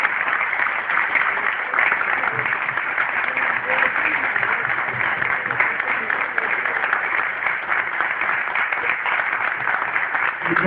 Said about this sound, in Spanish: yo quiero despedirlo al ingeniero con un aplauso